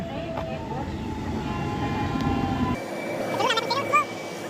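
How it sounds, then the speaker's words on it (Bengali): A train arrives at a busy station during the Prayagraj Maha Kumbh, its steady rumble and rail noise filling the first part before it drops off abruptly, followed by quieter station ambience with faint voices. "তো ট্রেন চলে এসছে।"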